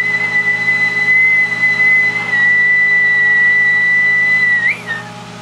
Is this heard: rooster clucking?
no